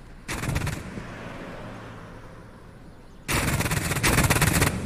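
Anti-aircraft ground fire in a flight combat video game over Hanoi's SAM defenses: two loud bursts of rapid, rattling gunfire, one short and one longer, separated by a steady engine-like rumble.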